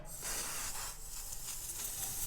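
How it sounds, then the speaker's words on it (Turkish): A spray can hissing over a chocolate-dipped mold for homemade Kinder surprise eggs, a continuous close, loud airy spray lasting the whole stretch with slight pulses. "burada yine aynı şekilde üzerine sprey sıkıyorum ben"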